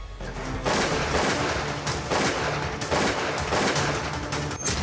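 Bursts of gunfire in a series of loud, closely spaced shots fired outside a warehouse, repeating over several seconds with no talk.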